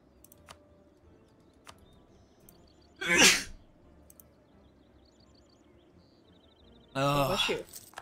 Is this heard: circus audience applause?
no